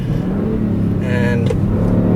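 The V6 engine of a 2018 Kia Stinger GT hums steadily, then revs up briefly with a rising whine, close and loud throughout.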